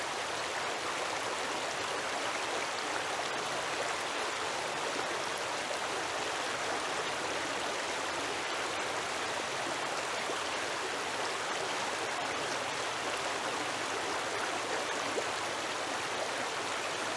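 A river flowing beside an off-road trail: a steady broadband rush of moving water that holds the same level throughout, with no voices and no distinct events.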